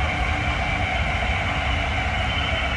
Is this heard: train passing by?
yes